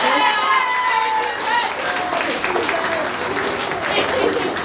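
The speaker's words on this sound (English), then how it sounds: "One more round of applause for these guys." A crowd at a school band concert gives steady, full applause after the band's performance, with cheering and a voice partly audible in the room.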